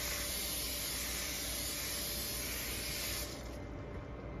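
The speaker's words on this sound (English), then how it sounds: "now you put your cooking spray on your pan" Cooking spray misted onto a baking pan for brownies, a steady close hiss that runs for about three seconds before cutting off into quieter room noise.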